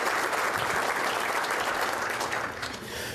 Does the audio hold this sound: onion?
no